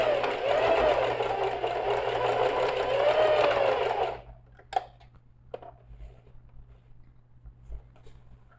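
A sewing machine runs a short safety seam in white topstitching thread, a steady close whirring hum for about four seconds, then stops, leaving light handling clicks and rustles.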